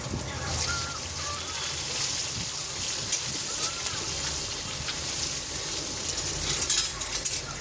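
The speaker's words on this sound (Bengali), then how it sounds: "এই দেখুন চিরা কাঁচা লঙ্কাটা তেলের মধ্যে দেবো।" Slit green chilies fry in hot oil with a steady, close sizzle, alongside light stirring and a few utensil clinks.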